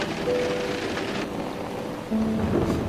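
Steady rain hisses throughout, a dense even wash of falling drops with no voices and a faint tonal hum underneath.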